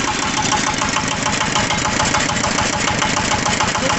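A sugarcane juice machine's engine runs steadily, a loud, close, knocking mid-pitched chug with a fast, even rhythm and no pauses.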